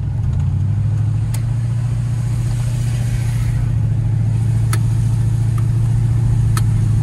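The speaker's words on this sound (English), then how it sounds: "22 foot long Cadillac on air suspension, moving around." A 1976 Cadillac Fleetwood's engine hums low and steady from inside the 22-foot car on air suspension as it drives along, with a few faint clicks and no talking.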